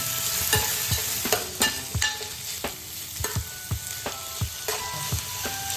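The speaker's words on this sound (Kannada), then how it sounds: "ಇವಾಗ ಚೆನ್ನಾಗಿ ಫ್ರೈ ಮಾಡ್ತಾ." Onions fry in a pan with a soft sizzle, while a spatula scrapes and taps the pan in irregular, close strokes throughout.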